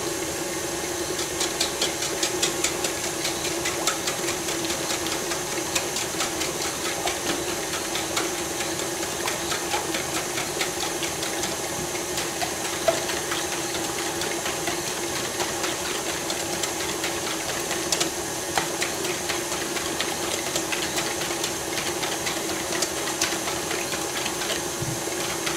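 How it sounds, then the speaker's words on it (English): A cake mixer running on fruit cake batter of butter and sugar, a steady mechanical whirr with a constant motor tone and faint rhythmic ticking, continuing unbroken and close with no talking. "in the cake mixer mixing for 15 minutes"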